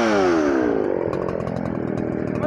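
A Craftsman 3.7 chainsaw fitted with a new full chisel chain revs up loud and close, its pitch sweeping up before settling into a raspy, high-revving whine, with no voices.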